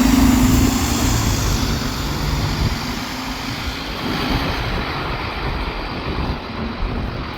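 A bus in Halifax pulls out toward the depot, its engine a broad steady rumble with a droning hum that eases off, heard alone from nearby.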